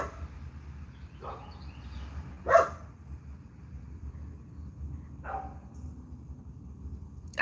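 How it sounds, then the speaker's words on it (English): A dog barks somewhere off at a distance in three separate single barks, spaced seconds apart over a low, steady background rumble. "What that dog over there talking about?"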